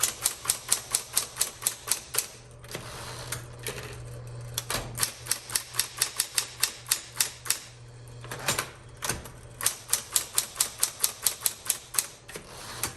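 Keys strike steadily on a 1960s Smith Corona Electra 120 electric typewriter. The crisp, loud, close clacks come in quick runs with brief pauses and carry a constant motor hum underneath.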